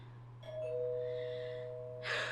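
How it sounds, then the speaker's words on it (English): A two-tone doorbell chime from a visual novel game, a clear bright ding sustaining into a held tone, followed by a short noisy burst; fairly quiet against a low steady hum with no talking. "it wasn't long before the doorbell rang."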